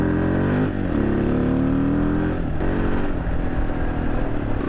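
A motorcycle engine runs close by with a loud, rumbling drone, its pitch rising and dipping as the throttle shifts between gears, on a trail ride in Morocco.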